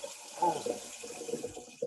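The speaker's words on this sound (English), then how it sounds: "pour some water over the pot, or else the cheese is gonna stick a lot to the pan" Water runs from a tap over a cooking pot crusted with macaroni and cheese, a soft splashing trickle with a few louder gushes, under faint background talk.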